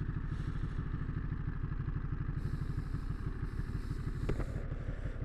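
A 2022 Ducati Monster motorcycle idles with a steady, pulsing engine note close by as it slows to a stop, with a brief clatter near the end.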